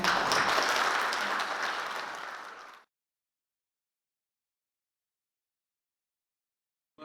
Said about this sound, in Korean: 우리 따뜻한 박수를 부탁드립니다